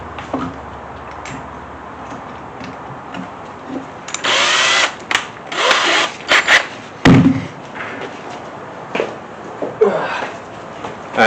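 A power sander works on a custom fender well of a Mustang in intermittent bursts, several loud grinding passes of a second or two each, separated by quieter handling noises and clicks.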